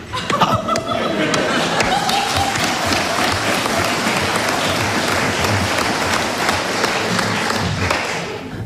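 A theatre audience at a 1989 Slovak cabaret performance breaks into loud, sustained applause, dense clapping filling the room with some laughter and crowd noise mixed in.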